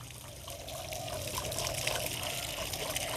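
A tap runs steadily while bully dogs drink straight from the faucet, giving a continuous splashing trickle of water with slight variations in the flow and no clear voices.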